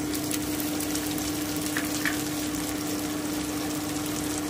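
Sliced potato and carrot strips sizzle in a pan of oil while egg chowmein is cooked, a steady close hiss of frying that continues evenly throughout with no talking.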